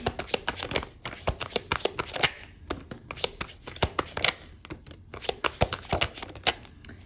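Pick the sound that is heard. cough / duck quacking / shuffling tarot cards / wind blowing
shuffling tarot cards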